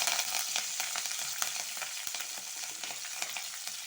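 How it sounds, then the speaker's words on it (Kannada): Curry leaves hit hot oil in a pan of frying masala rice, giving a dense, steady sizzle packed with sharp crackles and pops from start to finish, fairly close and with no talking. "ಈಗ ಕರಿಬೇವು ಹಾಕ್ತೇನೆ"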